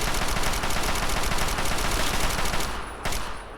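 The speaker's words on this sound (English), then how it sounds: "I'm being shot at." Sustained raider gunfire in Fallout 3, a dense close rapid burst of shots running steadily for a few seconds before thinning, with a final lone shot near the end.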